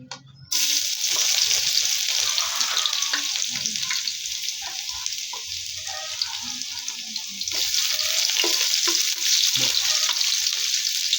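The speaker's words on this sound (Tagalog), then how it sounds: "Ayan, umpisa na tayong magisa." Garlic sizzles loudly and steadily in hot oil in a pan, with occasional stirring scrapes, as the sauté begins for ginataang bangus; no talk over it.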